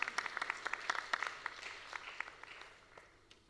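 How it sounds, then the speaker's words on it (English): Scattered audience applause at a pitch competition grand finale, with some individually distinct claps standing out near the start before the clapping thins and fades away. "Let's have a huge round of applause,"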